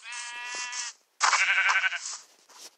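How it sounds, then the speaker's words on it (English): Two bursts of sheep bleating from blocky Minecraft sheep, the first a steady nasal bleat and the second a wavering, quavering call, close and clear with a brief silence between them. "I just found two sheep!"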